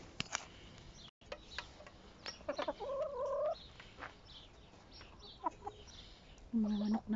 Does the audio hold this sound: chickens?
yes